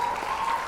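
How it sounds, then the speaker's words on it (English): Applause sound effect, a short burst of crowd clapping, loud and dense but lasting under a second. "Cue the applause."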